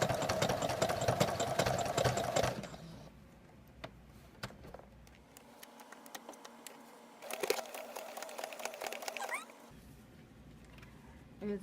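Sewing machine stitching a long to three-quarter shirt sleeve, a close mechanical whir running in two bursts separated by a quieter stretch with faint handling sounds.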